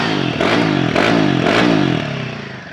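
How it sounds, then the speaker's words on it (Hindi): A Royal Enfield Himalayan 450 motorcycle exhaust rumbles loud and close as the throttle is blipped, the engine rising and falling through a few quick revs before easing back toward idle. "थोड़ा सा ट्रॉटल दूंगा, थोड़ा ट्रॉटल दूंगा ना, तो आप सुनिए साउंड।"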